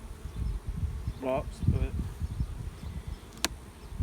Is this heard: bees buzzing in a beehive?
yes